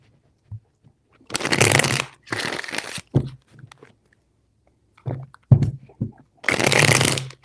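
Three bursts of riffle-shuffling cards, each a crisp rapid flutter lasting under a second, separated by quiet taps and handling noises.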